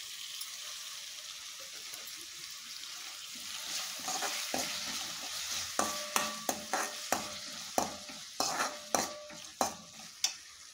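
Chopped tomato frying in a pan with chilli powder, turmeric and garam masala, a soft steady sizzle under sharp, rhythmic scraping and stirring strokes that grow louder toward the end.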